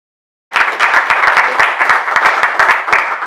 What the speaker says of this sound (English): Everybody is applauding very hard, so you can hear it.